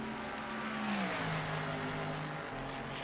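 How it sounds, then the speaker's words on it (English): The Ford Mustang Dark Horse GT3 race car in a racing video game, its V8 engine droning loudly with rising and falling revs as it passes and shifts, steady and alone. "The Dark Horse GT3 making NASCAR noises."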